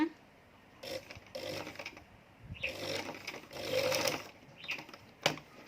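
Sewing machine stitching the corner of a tailored collar using a T-foot, short bursts of stitching in several runs with pauses between them, fairly close.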